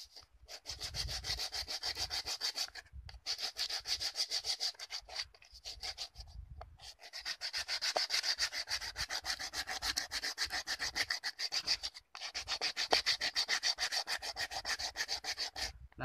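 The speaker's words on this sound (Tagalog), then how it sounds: "para matanggal po yung kanyang gaspang, meron po tayong liha" Used sandpaper rubs back and forth over a cut coconut shell to smooth its rough surface, a steady scratchy rasp in long continuous strokes with brief pauses between bursts, close and loud with no talking.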